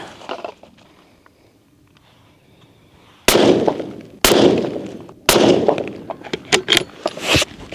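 Three loud, close rifle shots ring out about a second apart during outdoor sighting-in at the range, each a sharp crack trailing into echo.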